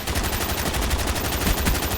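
Rapid bursts of automatic gunfire in the video game Call of Duty: Black Ops, sharp repeated shots in quick rhythmic succession, steady and fairly loud throughout without any speech.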